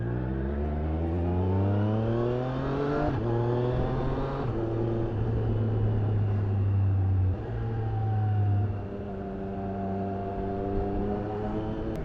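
A 2021 Triumph Street Triple RS motorcycle rides down the road, its loud, close engine climbing in pitch through several gears with brief drops at each shift, steady and continuous with no talking.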